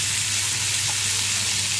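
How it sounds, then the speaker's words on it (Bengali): Chopped onions and garlic frying in a pan, a steady close hiss of sizzling oil with a faint stir, continuous across the short stretch. "তো এখন একটু নাড়াচাড়া দিয়ে একটু লাল করে ভেজে নেবে পেঁয়াজগুলোকে।"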